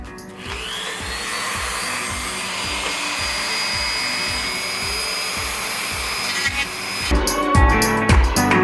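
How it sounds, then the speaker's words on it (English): Dremel 3000 rotary tool grinding plastic bumps off a 2015 Mustang S550 headlight housing: a steady, loud, close high-pitched whine with a pulsing low rumble, ending in rougher, louder bursts of grinding contact. "we're gonna use a Dremel to grind those off"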